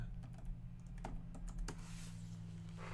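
Quick, light keystrokes on a computer keyboard click in an irregular burst over a steady low electrical hum, then trail off into softer rustling.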